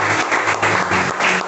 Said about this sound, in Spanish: Démosle un fuerte aplauso al Rey de Reyes